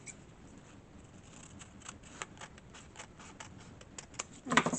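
Scissors cut through paper pages with a series of small, quick snips in a steady rhythm, close and fairly quiet, ending in a louder rustle of handled paper.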